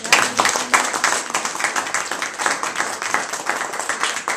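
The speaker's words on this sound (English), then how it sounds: "Let's give him a round of applause." A round of applause from an audience at a city government event, where a new city auditor is introduced by the mayor, steady and moderately loud with dense overlapping claps throughout, alone without speech.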